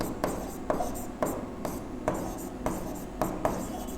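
Chalk or marker strokes on a classroom board during a chemistry lesson, a close repeated scratching in regular short bursts about every half second, with no voice heard.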